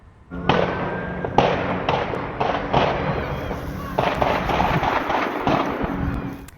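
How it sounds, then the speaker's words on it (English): A series of loud, sharp gunshots in irregular succession in Pueblo, somewhat distant and echoing, continuing for several seconds over background noise. "he captured the sound of gunshots in Pueblo"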